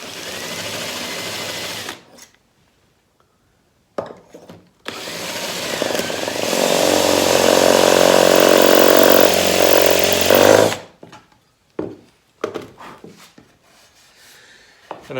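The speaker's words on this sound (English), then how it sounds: "Now I can just come through here and drill the hole to depth." A loud power drill whines steadily for several seconds boring holes in wood for a cabinet, then stops, with short bursts of clatter and handling noise before and after.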